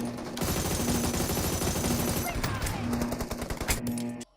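A machine gun fires in a video game with rapid, loud bursts of automatic shots in quick succession, briefly slowing into separate cracks before stopping near the end.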